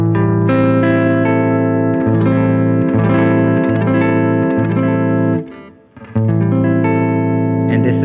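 A guitar rings out a minor seventh chord shape on an E bass, struck repeatedly in a steady strum with sustained, full tones and a brief drop-out near the end before the chord returns.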